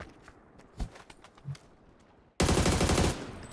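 Gunfire in the battle-royale video game PUBG: after a few quiet thuds and taps, a loud, rapid automatic burst erupts near the end and then fades into a lingering echo.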